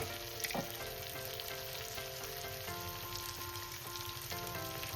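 Tomato fried with turmeric, cumin and coriander powder in a pan for mixed dal, a steady soft sizzle running throughout, with occasional stirring scrapes and no talk.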